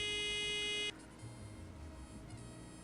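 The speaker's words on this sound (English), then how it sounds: "Though I don't like the buzzer noise." Door buzzer in a Nancy Drew detective video game, a flat harmonic electronic buzz held for just under a second and then cut off abruptly, followed by quiet low background hum.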